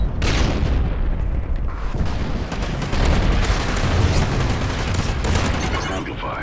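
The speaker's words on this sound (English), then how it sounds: "Gun goes boom." Heavy video-game gunfire roars without a break, with dense overlapping shots and booming blasts, loud and close, and a voice briefly audible among them.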